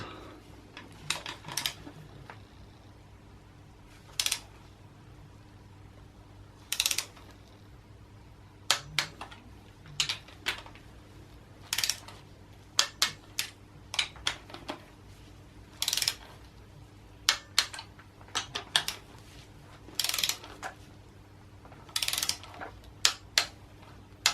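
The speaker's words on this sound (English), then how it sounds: "And now we will install the clamps for the injectors. And then we'll just torque them up." Ratchet wrench clicking in short, irregular bursts while tightening the injector clamp bolts on a BMW N47 diesel engine, crisp near ticks over a low steady hum, with no talking.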